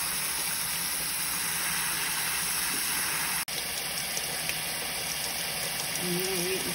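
Running tap water pours steadily over a cup and a half of rice in a kitchen strainer, a constant close hiss with no talk.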